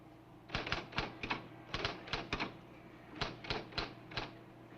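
Rapid bursts of mechanical typewriter-style key clacks on a teaching machine, in three clustered runs of four to five strikes each, crisp and close, with a steady low hum underneath.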